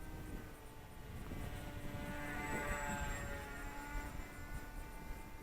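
A Volantex Ranger G2 RC airplane with a 1200mm wingspan flies close-in aerobatics and spins, its steady electric propeller whine droning continuously and rising slightly as it passes nearest.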